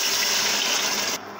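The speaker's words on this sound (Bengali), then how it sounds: "এখন পানি অ্যাড করে দিব," Water gushes steadily into a pressure cooker holding chickpea dal with turmeric, salt and whole spices, then cuts off abruptly near the end.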